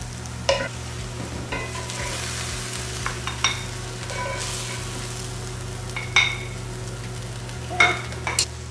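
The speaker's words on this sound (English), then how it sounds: "The best way to deglaze a pan with mushrooms is with red wine" Foraged king bolete mushrooms frying in a pan for gravy, a steady close sizzle broken by repeated scraping stirs of a utensil against the pan, with no talking.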